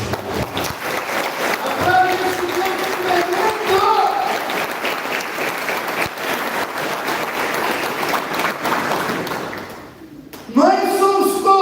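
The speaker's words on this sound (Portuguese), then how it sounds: "Vamos aplaudir." A church congregation applauds together in sustained, dense clapping that fills the room, with voices mixed in. The clapping dips briefly near the end and then rises again.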